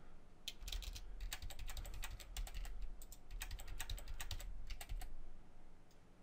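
Computer keyboard typing in close, quick irregular bursts of light clicks, with brief pauses and a low background hum.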